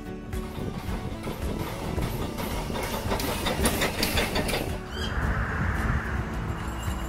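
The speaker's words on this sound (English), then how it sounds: "and we went on a steam railway." A loud, rumbling steam train chugging steadily along, with a sharp burst of hissing steam near the end.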